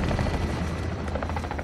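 Helicopter rotor in a first-person shooter video game, a dense continuous low thrumming chop with a steady roar that stays loud and even throughout the short stretch, heard alone without talk.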